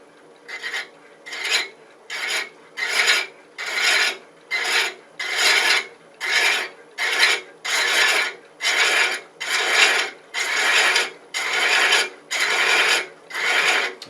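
Thread chasing on a lathe cuts into Palo Santo wood, a regular series of loud rasping strokes roughly every second, each a scraping burst with short gaps between, close and steady with no talk.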